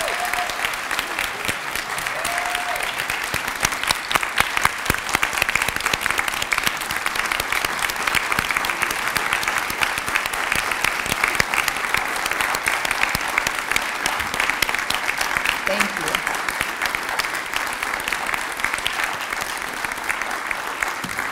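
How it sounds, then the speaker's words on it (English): Sustained audience applause for honored women at a community recognition event, steady dense clapping from a large crowd lasting throughout, with faint scattered voices beneath. "Let's give them a round of applause."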